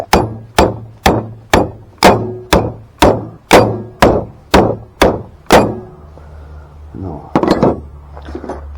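A hammer beats repeatedly on scrap metal to knock a stator core loose: about a dozen sharp, loud, evenly spaced strikes at a brisk steady rhythm, then a pause with a few scraping knocks and rustling.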